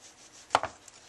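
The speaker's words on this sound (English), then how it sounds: "I'm going to just take nice little slices, and I'm going to run around" A knife slices peel off an orange in two quick, crisp cuts close by, with quiet room tone before and after.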